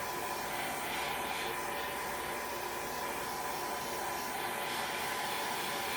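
A dryer blows a constant loud, even rushing whoosh over a paint stencil for a Halloween craft project, close by and unbroken, with no talking.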